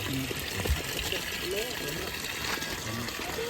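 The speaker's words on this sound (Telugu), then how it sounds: "వాటర్ వస్తుంది అనమాట, చాలా పెద్దది." Hot spring water gushes steadily from a pipe along the rocky Velliangiri mountain trek, a constant splashing flow beneath people talking nearby.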